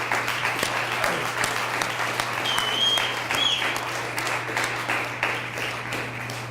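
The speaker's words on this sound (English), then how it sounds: "Let's give them a round of applause." Applause from the audience at an elementary school DARE graduation ceremony, a steady sustained clapping crowd filling the room throughout, with no talk over it.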